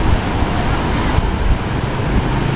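Ocean surf at Air Manis beach near Padang, West Sumatra, recorded at night as a steady, loud wash of broken waves mixed with wind rumbling against the microphone, continuous throughout with no distinct individual breakers.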